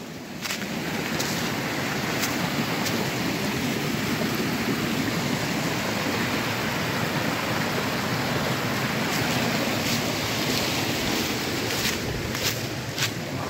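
Mountain river flowing below a village yard, a steady unbroken rush of water filling the whole scene, fairly loud with no voices.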